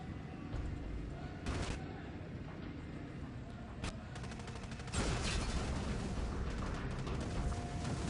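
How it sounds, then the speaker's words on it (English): Heavy forge gun firing in the Dust 514 video game during a tournament match, with dense repeated blasts and explosive bursts throughout, growing louder and more continuous in the second half, under faint commentary. "on the main screen here we have the forge gun being carried by the heavy drop suit"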